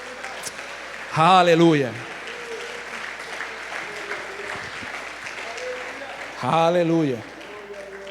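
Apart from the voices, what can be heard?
congregation applause in church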